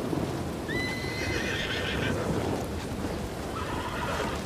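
Two horses neigh in turn, one long shrill whinny followed later by a softer second call, over steady rumbling background noise.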